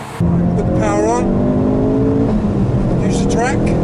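A Ford Focus RS accelerates hard on a race track, its engine note climbing through rising revs with a gear change, close and loud inside the car while a person talks over it.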